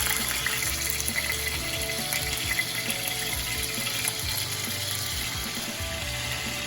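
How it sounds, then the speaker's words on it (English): Olive oil sizzles in a cast iron pan as food pan-fries, a continuous crackling hiss with a watery, bubbling texture and low rumble underneath, steady and fairly close throughout. "I have some olive oil that I've put in a cast iron pan, and we're just going to pan fry these"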